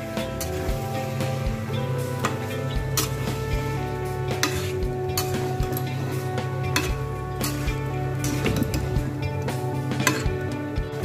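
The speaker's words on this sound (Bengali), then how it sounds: "এবার আমি এটাকে আগে একটু ভেজে নেব চিকেনগুলোকে পেঁয়াজের সাথে" Chicken pieces fry with onions in a hot pan, a steady close sizzle broken by scraping stirs and light clinks of a utensil against the cookware, with no talking.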